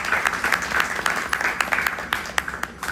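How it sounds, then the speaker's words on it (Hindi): Applause from a small audience at an advanced meditation gathering, individual hand claps distinctly audible within a lively, uneven patter that holds for about three seconds at moderate loudness. "एक बार उनके लिए तालियां प्लीज"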